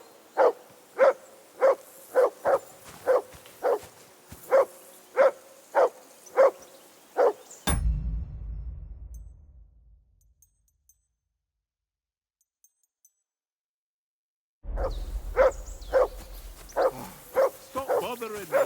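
A dog barking in Kingdom Come: Deliverance II, a steady run of about a dozen regular close barks, then a sudden cut to near silence before the rhythmic barking resumes at the end.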